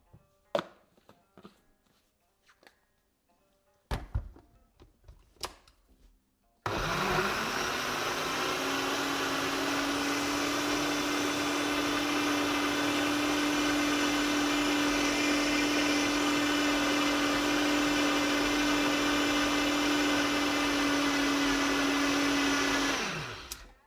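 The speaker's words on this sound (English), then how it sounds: "Now that I'm blending this" A few clatters and clicks, then a blender roars on, whirring steadily at a high, loud pitch for many seconds before cutting off.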